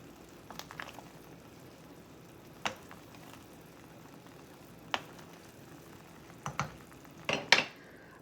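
Chicken broth simmering in a pot as dumplings are dropped in, a faint steady bubbling bed broken by a few sharp clinks and splashes that cluster toward the end.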